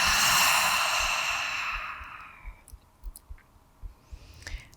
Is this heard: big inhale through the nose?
yes